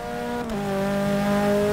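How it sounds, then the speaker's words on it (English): Vauxhall Corsa VXR engine in the Forza 6 racing game, revving up to full revs and then holding a loud, steady high-pitched drone with a brief dip as it shifts, with no voices present. "See how it does revving it to full revs."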